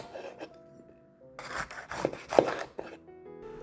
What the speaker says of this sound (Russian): берем один болгарский перец и нарезаем его кольцами